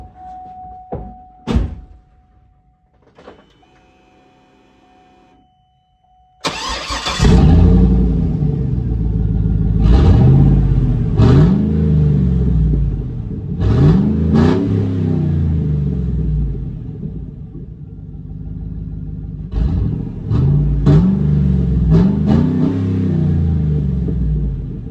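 A 2008 GMC Yukon Denali with its muffler cut off fires up after a few clunks and knocks, then roars through a series of loud, raw, repeated revs that rise and fall close by.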